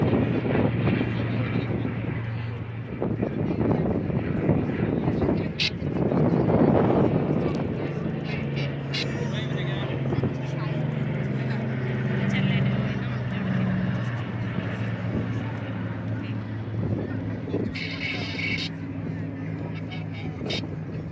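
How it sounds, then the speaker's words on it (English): Vintage Dakota transport and Hurricane fighter flying over the seafront at the Blackpool Battle of Britain airshow, with a steady engine drone swelling loudly around the middle and then holding beneath a commentator's voice and crowd ambience. "watch as the aircraft pitches up from the left, from the right, the Dakota and the Hurricane"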